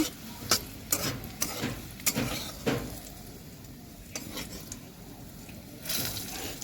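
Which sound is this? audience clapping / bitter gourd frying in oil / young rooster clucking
bitter gourd frying in oil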